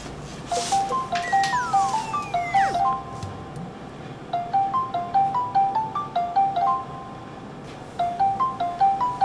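Phone ringing on an outgoing call: a repeating electronic melodic ringtone in short cycles with gaps between them, clear and close, with faint background noise and no talking.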